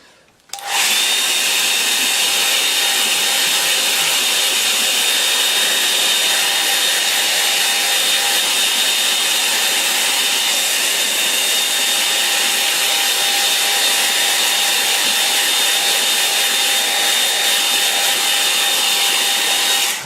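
A hair dryer blows steadily on a watercolour painting of a village church across a pond, a loud, close, unbroken whoosh with a faint whine that runs for about twenty seconds before cutting off.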